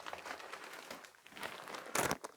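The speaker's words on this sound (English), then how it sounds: "that's a plastic bag" Close crinkling and rustling of a plastic bag full of papers being handled, irregular crackles building to a louder crunchy burst near the end.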